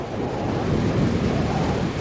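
A gale blows over huge waves at sea in the mid-Pacific, a dense, loud roar of wind and surging water with buffeting gusts swelling toward the middle and no voices.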